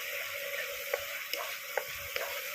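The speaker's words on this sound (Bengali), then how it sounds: "গুঁড়ো মশলা আর বাটা মশলা দিয়ে ভালো করে এইভাবে মিশিয়ে মিশিয়ে নাড়াচাড়া করে নিয়ে একটু কিছুক্ষণ সময় নিয়ে কষিয়ে নেব।" Ground and paste spices fry in a pan for chicken keema potol dolma, a steady close sizzle punctuated by several short spatula scrapes as the masala is stirred.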